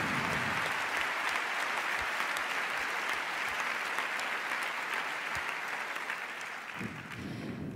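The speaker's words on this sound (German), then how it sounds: "die wollen wir heute Abend auch gleich direkt mal mit einem fetten Applaus begrüßen" Loud, dense applause from a large audience at a Friday evening opening and worship gathering, sustained steadily throughout and tapering slightly near the end.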